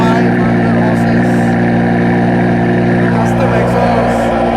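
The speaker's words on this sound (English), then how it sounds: "That's a V10 noise. That is a naturally aspirated V10 with over 500 horses." Lamborghini Gallardo Superleggera LP 570-4 with a naturally aspirated V10 of over 500 horsepower, idling loud and close, a dense steady rumble with a buzzing harmonic drone and slight wavering.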